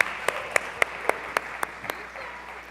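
A church congregation applauds in praise during a worship service, steady crowd applause with sharper rhythmic claps landing roughly every quarter second, fairly close and loud.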